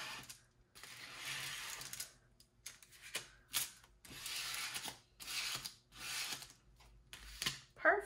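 Repeated scraping of excess marbling paint off a sheet of paper, several broad rasping strokes in a row with short pauses between them, close and fairly quiet.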